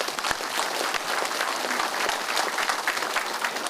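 Audience applauding at the close of a televised health lecture, dense sustained clapping filling the hall at an even level, with sharp individual claps standing out in the crowd.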